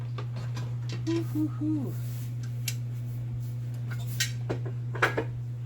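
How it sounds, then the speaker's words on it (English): Glass jars of home-canned sweet peppers clink and knock as they are lifted from a pressure canner, several brief clatters over a steady low hum, with a person talking in between. "I'm now taking it out of the canner."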